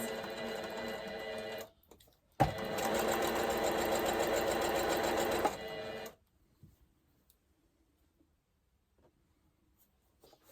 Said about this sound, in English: I'm just going to go back to secure those stitches.